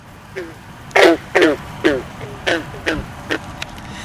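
A voice imitates a green frog call with a series of short, twangy gulping croaks, about seven in a loose, uneven rhythm, close and clear.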